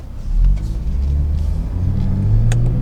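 A BMW M240i drives along with a deep, steady engine rumble rising slightly in pitch, a faint click of a gear shift cutting through near the end.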